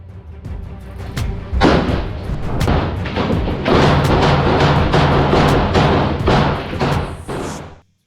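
Explosions and blasts of battle on the ravaged streets of Toretsk, Ukraine, near the front line: a loud, continuous series of booming impacts and crashing thuds piling on one another, with sharp cracks throughout.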